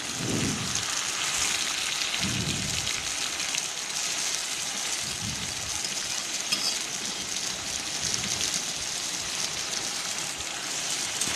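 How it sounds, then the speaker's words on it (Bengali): Fish frying with onions in a pan for a Bengali dish, giving a steady, close hiss and crackle of sizzling oil throughout, with no talk. "পেঁয়াজের সাথে মাছটাকে ভালোভাবে কষিয়ে নিতে হবে।"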